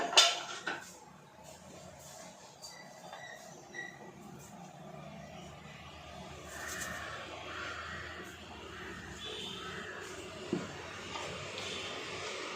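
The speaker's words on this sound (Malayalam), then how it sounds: "നല്ലതുപോലെ ഇളക്കി കൊടുക്കുക." A metal spoon stirs and clanks inside a cooking pot of lemon-and-salt water for chicken biryani, with a few sharp knocks at the start, then steady soft scraping and stirring up close, with no talking.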